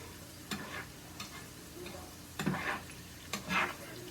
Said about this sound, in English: I've been frying this up for 12 minutes